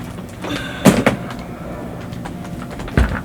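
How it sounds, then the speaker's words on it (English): Fireworks going off in Persona 5 Royal, with two sharp, loud bursts about two seconds apart over a steady low background hum. "fireworks are still going off"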